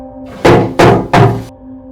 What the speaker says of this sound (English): I knocked 3 times loudly. You can hear the echo.